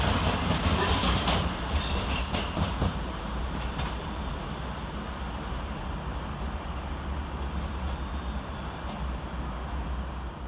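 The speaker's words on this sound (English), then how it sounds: "Whilst departed out from behind him is 221121 with the 1419 cross-country service from Bournemouth to Manchester Piccadilly" Cross-country train 221121, a Bournemouth to Manchester Piccadilly service, departing Stockport railway station, a steady broad rumble and wheel noise with faint clicks early on, holding fairly even and moderately distant with no voices.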